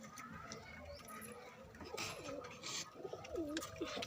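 Pigeons coo softly in a repeating, throaty rolling pattern, growing more distinct toward the end, over a close, noisy background with rustling and faint scratchy sounds.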